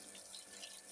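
Water poured onto garden plants, a soft, steady splashing hiss, faint and brief with no voices.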